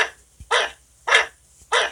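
Preset dog bark effect from the Stop Motion Studio Pro sound library: three sharp, evenly spaced barks, clear and close with short silences between them.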